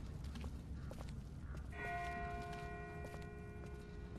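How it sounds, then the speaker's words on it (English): A distant church-style bell rings in The Walking Dead video game, faint and far off, with sustained tonal strikes entering partway through over a low background rumble. "That's not the same bell as before. This one's further off."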